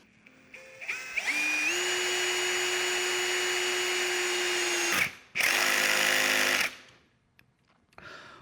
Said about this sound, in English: Once the clutch in your drill doesn't allow you to drill any further, tighten it up a little bit and then screw in more.